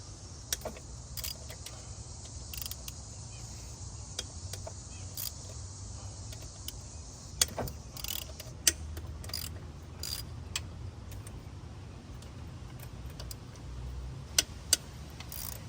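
A hand ratchet working 12mm bolts loose on an Acura TSX during a 2004–2008 starter replacement: faint, rapid metallic clicks and ticks in irregular bursts, close by in a quiet space, with no talk.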